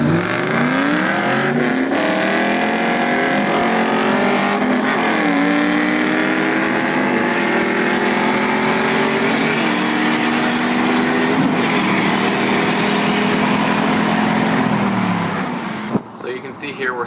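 An LS1 F-body and a 4.6L modular Mustang race side by side, their engines roaring loud and steady as they pull hard through rising gears for about fifteen seconds before the noise cuts off.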